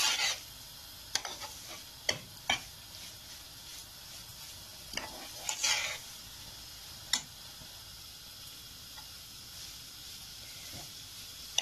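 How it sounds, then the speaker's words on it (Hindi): Semolina roasts in oil in a pan for suji halwa, with a faint steady sizzle broken by sparse, sharp scraping taps of a spoon stirring against the pan. "इसमें मैं थोड़ा सा ऑयल जो है वो और शामिल कर लूंगी ताकि जो सूजी है वो मेरी अच्छे से भुन जाए।"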